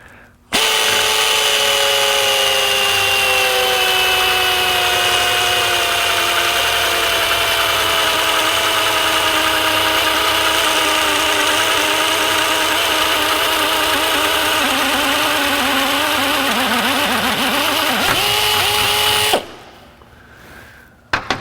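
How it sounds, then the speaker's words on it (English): A pneumatic air drill with a 135-degree bit bores through metal in one continuous high-pitched whine for about nineteen seconds, its tone shifting as the bit bites, then stops abruptly. "Let's see how it drills."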